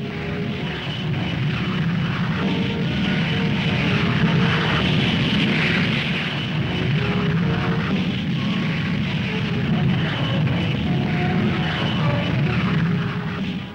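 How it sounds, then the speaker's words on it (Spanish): T-33 and F-86 jet aircraft taking off from an airfield, a loud, steady engine roar that holds at full strength for the whole stretch with no voices. "comienzan a despegar los aparatos T-33 y los F-86"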